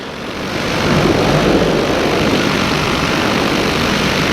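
An EOS Quattro Beta paramotor engine runs in flight, a loud, continuous propeller drone that swells in the first second and then holds steady with wind noise, with no voices heard.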